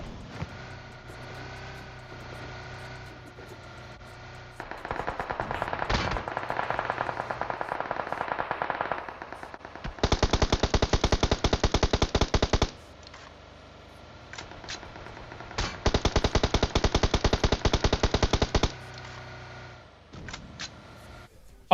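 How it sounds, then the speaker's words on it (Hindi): Rapid automatic gunfire from PUBG Mobile, loud bursts of several seconds each that repeat in bursts against steady game background noise, with no talk. "और चलाते हैं ये लोग गोली दबा के।"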